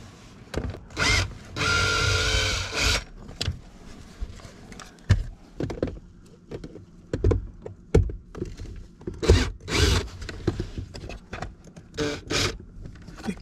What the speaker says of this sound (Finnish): Kokeillaanko avata toi ruuvi, niin katsotaan mitä sitten tapahtuu.